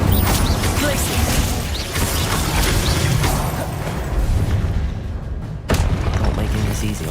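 Incendio and Glacius spells cast in Hogwarts Legacy combat, giving a steady roaring, crackling rush of magic with booming hits and a sharp burst near the end, with some voices over it.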